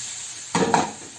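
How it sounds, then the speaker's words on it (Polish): Button mushrooms frying in a pan, a steady soft sizzle with a brief louder burst of stirring and hissing as they are moved around, close and alone. "Pieczarki jak widzicie już dochodzą sobie delikatnie jeszcze je sobie przesmażamy"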